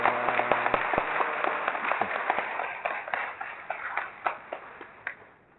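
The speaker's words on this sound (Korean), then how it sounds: "먼저 감사의 박수 부탁드립니다." Applause from a church audience thanking a priest after a homily at an Advent lecture, a dense patter of clapping that thins out into scattered individual claps and fades near the end.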